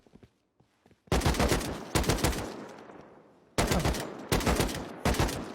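Gunfire in the Rust video game comes in loud sharp bursts, with several separate volleys of rapid shots and short gaps between them after a quiet opening.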